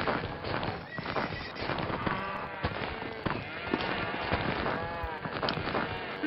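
Game horses in Mini Block Craft neigh and whinny over busy clip-clop hooves and popping effects, a dense, loud jumble of repeated calls and clatter.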